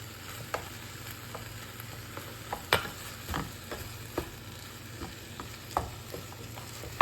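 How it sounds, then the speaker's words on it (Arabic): Eggplant is stirred and cooked in a hot pan, a low steady sizzle with occasional sharp scrapes and clicks of a utensil against the pan, close and unaccompanied by talk. "أضيف عليه كذلك الباذنجان عشان تسبك مع بعض"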